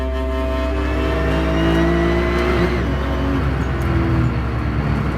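A hill climb race car on Michelin tyres pushing hard up the course, its engine loud and close, revving and pulling steadily through the gears over several seconds, with no voices.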